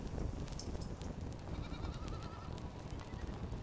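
A goat bleats in a survival crafting video game, set against a steady bed of outdoor ambience; the calls are faint and thin, with no voices over them.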